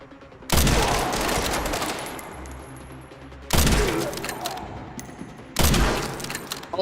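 Loud bursts of gunfire in the zombie video game Resident Evil 9, three heavy volleys each ringing out and slowly decaying, with no talk over them.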